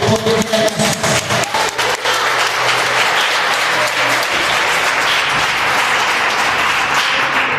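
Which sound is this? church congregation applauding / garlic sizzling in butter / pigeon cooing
church congregation applauding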